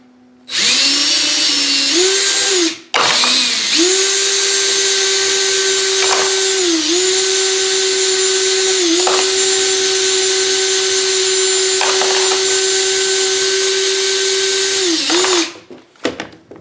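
A power drill spins brass rifle cases chucked in place during reloading prep, giving a loud, steady whine that briefly cuts out and restarts, dips in pitch a few times under load, then stops.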